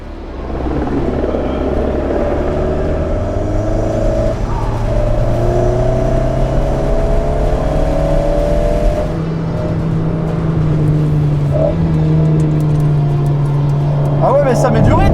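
Alpine cars drive onto the 24 Hours circuit in a parade, engine droning and rumbling steadily up close with revving pitch shifts, while someone talks over it throughout.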